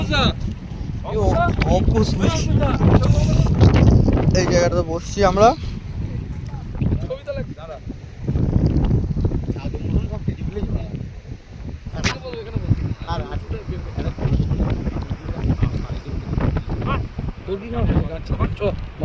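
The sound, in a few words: wind blowing all around an outdoor spot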